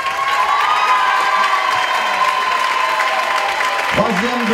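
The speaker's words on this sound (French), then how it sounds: "Tous vos applaudissements, bien sûr" A crowd at the Miss Ronde 2013 beauty pageant cheers and applauds a contestant, a loud, steady wash of clapping and shouts with a brief low voice near the end.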